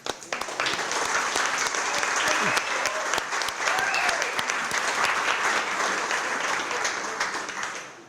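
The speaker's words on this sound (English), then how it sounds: "Dale, we need to give you just an applause just for that" Sustained applause from an audience at Dale's retirement celebration, steady and fairly loud for about eight seconds before tapering off at the end, with faint voices mixed in.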